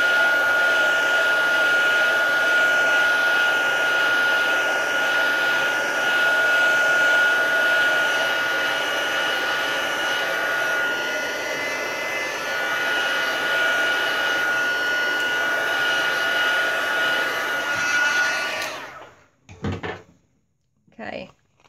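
A heat tool blowing hot air to dry spritzed ink on a stamped card, a steady close whirring roar that runs without a break for about eighteen seconds and then cuts off, followed by a few faint clicks.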